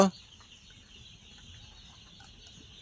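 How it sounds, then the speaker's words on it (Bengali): Chickens cluck faintly on a poultry farm over a quiet, steady background hum, after a brief bump at the start. "এদের কাছে মুরগি আছে, পোলট্রি।"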